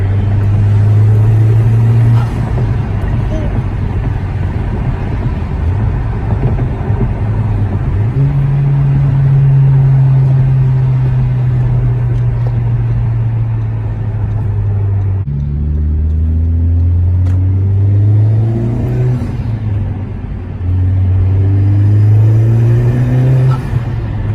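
A loud Honda Civic Type R FK8 engine with an aftermarket PRL intake drones and revs up and down in long rising and falling sweeps, with a deep rumbling intake roar throughout.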